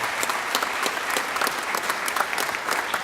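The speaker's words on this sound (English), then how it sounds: "Let's give them a round of applause as well." An audience gives steady, dense applause for East Georgia State College staff at the college's 5th annual Patriotic Concert, with no talk over it.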